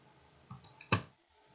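Computer mouse clicks during graphic design work: a few light, quick clicks in a short burst ending with one sharper click, close and alone against quiet room tone.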